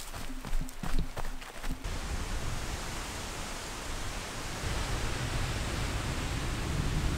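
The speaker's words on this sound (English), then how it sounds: "She's a windy one" Wind blowing steadily across a microphone along a backpacking trail, a loud broadband rush that rises toward the end, preceded by a few brief footstep thuds.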